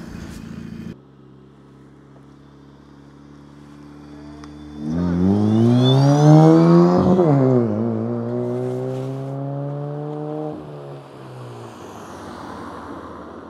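An e-bike plays a simulated sporty engine sound, a synthetic tonal drone that swells, rises in pitch like revving, then holds and fades away, with wind noise around it.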